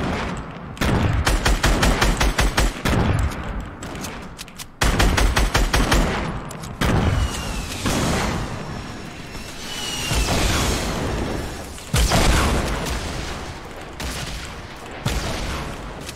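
Grenade explosions and bursts of gunfire in a Fortnite duo match, a dense run of loud booms and rapid shots repeating over the whole stretch with almost no pause.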